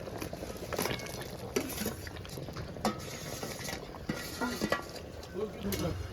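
A bhetki fish-bone curry simmers under a lid in a pan, giving a faint, steady bubbling patter with occasional soft clicks of cookware.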